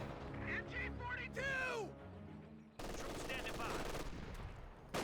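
Grenadiers fire from inside a garrison in Company of Heroes 2, a dense stretch of overlapping gunshots and machine-gun bursts mixed with game effects and a brief gap midway, loud and continuous throughout.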